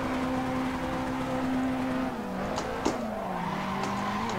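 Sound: car braking with tire skid in Assetto Corsa video game

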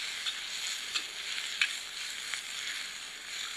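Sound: bamboo shoots, soy sauce and stock sizzling in the wok

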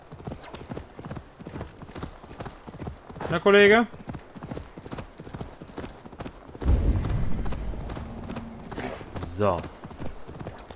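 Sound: horse hoofbeats in the video game Assassin's Creed Valhalla

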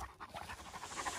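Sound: dog panting

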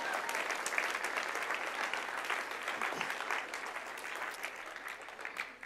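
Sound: congregation applauding in church

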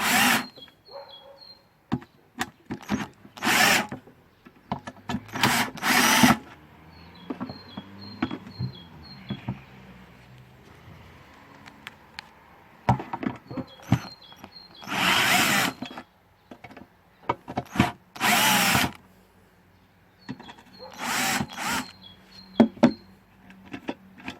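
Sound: power drill unscrewing screws on Briggs & Stratton carburetor

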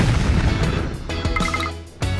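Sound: things exploding into candy in a video game

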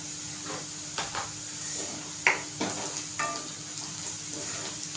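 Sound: sautéing onion and spices in oil for kantoli bhaji

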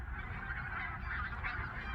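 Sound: flock of seagulls calling at dawn on the coast

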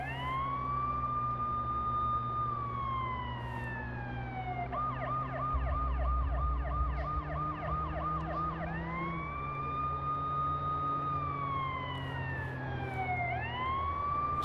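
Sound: ambulance siren in Watch Dogs video game

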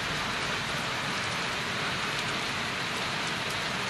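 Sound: heavy rain falling at night

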